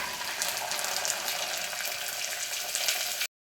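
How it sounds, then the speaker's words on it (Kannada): Onion and garlic frying in a hot pressure cooker: a steady, dense sizzle close by, continuous and fairly loud for about three seconds before cutting off abruptly. "ಈರುಳ್ಳಿ ಸ್ವಲ್ಪ ಫ್ರೈ ಮಾಡ್ಕೊಳ್ಳೋಣ"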